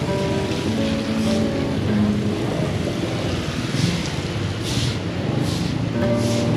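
Rushing, overflowing flood water from Kali Gabus swollen after a night of heavy rain, a steady broadband roar filling the whole span, loud and continuous with no voices.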